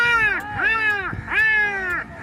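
Crows caw in harsh, drawn-out calls, three loud nasal cries in quick succession, nearby, as a man imitating crows draws them in.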